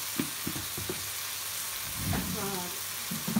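Turmeric goes into a curry with softened tomatoes frying in a pan, producing a steady low sizzle with a few stirring knocks and a brief murmur of speech over it.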